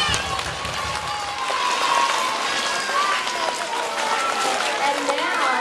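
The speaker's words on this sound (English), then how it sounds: "Let's give them a round of applause." Audience at a school writers' celebration applauding their teachers, a thick, continuous roar of clapping that stays at an even level throughout.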